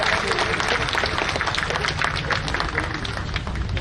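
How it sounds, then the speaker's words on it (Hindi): A crowd at a ward development event in Jaipur gives loud, vigorous applause, close and sustained, with a few voices mixed into the clapping. "धन्यवाद दीजिए जोरदार तालियां बजाकर।"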